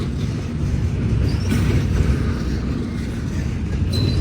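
A BNSF freight train rolls past as a loud, steady, broad rumble with continuous wheel and rail noise that holds for the whole stretch, with no talking.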